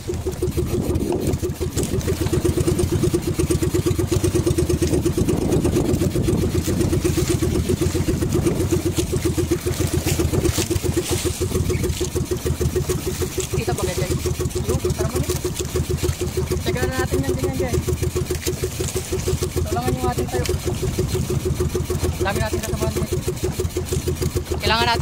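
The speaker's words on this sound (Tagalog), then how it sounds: "Wala sa kondisyon ng ating makina." A fishing boat engine in poor condition idles steadily with a constant mechanical chug, loud throughout, while voices talk faintly in the background.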